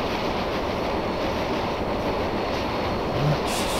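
Russel snow plow throwing snow in Train Simulator Classic, a steady, dense rushing roar with rail rumble underneath, continuous and fairly loud with no talking.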